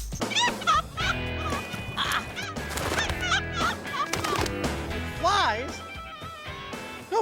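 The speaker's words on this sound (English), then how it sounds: "Nobody told me chickens could fly." Wild chickens flap and cluck in a steady run of squawks and calls, with people talking over them throughout.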